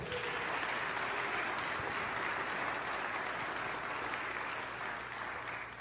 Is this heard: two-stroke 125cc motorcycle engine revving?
no